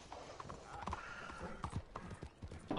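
Galloping horse hooves in a video game, a rapid, uneven clip-clop rhythm that continues throughout at moderate volume.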